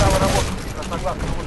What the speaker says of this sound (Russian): А, это мой титан стрелял.